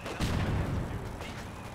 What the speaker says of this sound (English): the Mortar half-track actually doing some good work here